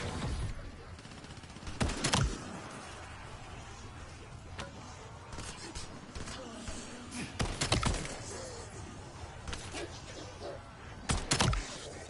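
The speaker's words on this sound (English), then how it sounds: "These guns shoot like a shotgun." Gunfire from Black Ops 7 zombies mode, with a few sharp, loud shotgun-like blasts spaced out over a busy background of game noise, roughly three main bursts standing clear of the din.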